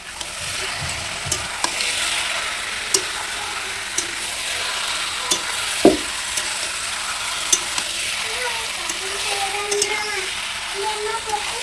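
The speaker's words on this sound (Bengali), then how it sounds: "তো এগুলো একটু খুন্তি দিয়ে নাড়াচাড়া করব" Chicken pieces with papaya and potato stirred and fried over low heat with a metal spatula, a continuous sizzle broken by regular scraping clinks against the pan, with a voice talking briefly partway through.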